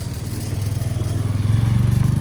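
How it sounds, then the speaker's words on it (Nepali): A scooter in a wealthy residential neighborhood in Korea, its pulsing engine putter growing steadily louder as it approaches close by. "धनी मान्छेले स्कुटर ल्याउँदैछ।"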